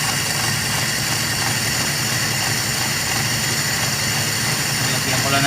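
A small engine running steadily after its carburetor has been filled with fuel, a dense, even idling drone with a faint mechanical rattle, close and loud throughout.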